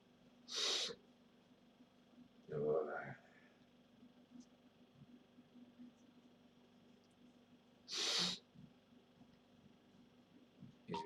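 Someone sneezes twice in a quiet room at night, each sneeze a sudden, short, forceful burst close by, several seconds apart, with a brief vocal sound in between.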